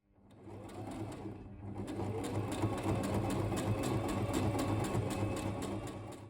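A sewing machine runs steadily, stitching a red line along a kimono collar pinned to the kimono body, a continuous close whir with a rapid needle rhythm that ramps up from quiet.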